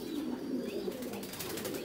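Pigeons coo in a loft housing about a hundred breeding pairs, with a few soft, low, close calls overlapping over a faint rustle.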